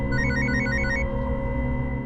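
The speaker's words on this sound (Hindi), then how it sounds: "फोन आ रहा है। उठा, बात कर।" An electronic telephone ringtone in a TV crime drama trills in repeated bursts for about the first second over a steady background music bed, then the ringing stops while the music continues.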